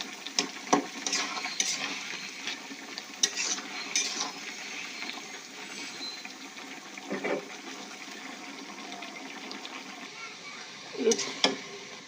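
Sweet pumpkin with green chillies simmering in a pan on a stove, a low bubbling hiss under occasional sharp clinks and scrapes of a utensil against the pan, with a louder clatter near the end.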